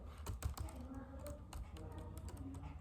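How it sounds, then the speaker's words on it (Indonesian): Someone typing an ssh command on a computer keyboard at a terminal: a quick run of close, crisp key clicks with brief pauses, quiet overall, and a voice speaking faintly over part of it. "Lalu ke terminal, kita ketik ssh"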